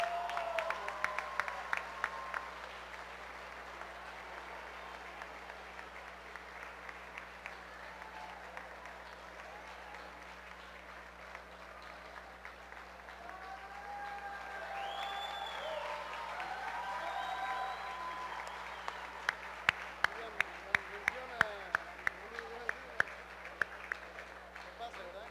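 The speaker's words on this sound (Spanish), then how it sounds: "denle un fuerte aplauso a Ruth" Audience applause for a female singer at a national bolero contest in Caicedonia, moderate clapping that swells toward the end with a few sharp claps standing out.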